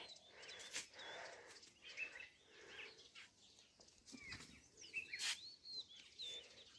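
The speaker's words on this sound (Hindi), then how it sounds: "यहाँ पे चिड़िया भी आ रखी हैं आंगन में।" Small birds chirp and tweet in a home courtyard on a cloudy, hot day, scattered quick calls fairly close over a light background hum, with no one talking.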